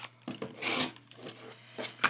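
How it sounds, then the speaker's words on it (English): Trimming the edges of quilt fabric pieces, short close rasping strokes and rubbing sounds in a few quick bursts, fairly quiet and heard alone. "just kind of trimming those edges up"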